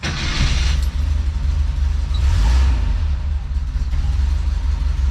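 A car engine runs in a repair shop after its starter was fixed, a steady low rumble close by with a couple of brief revs and whooshing swells.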